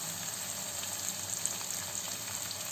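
Cabbage, carrot, tomato and capsicum sizzle in a pan with onions and green chillies for egg Maggi noodles, giving a steady close frying crackle with no talk.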